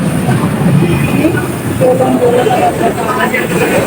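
Steady rumble of an LRT light rail train riding along the rails, with clacking wheels and a faint squeal, loud and close throughout.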